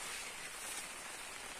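Heavy rain falling in Paraíba, Brazil, a faint, even hiss of steady downpour heard alone from a short distance, with no voices over it.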